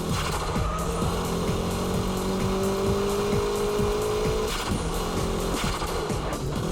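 Car drifting through a corner at Ebisu circuit, a loud engine holding a high strained note with rapid rhythmic pulsing, dipping briefly before the revs pick up again, heard fairly close.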